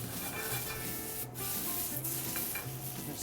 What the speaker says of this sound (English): Give my pasta a stir.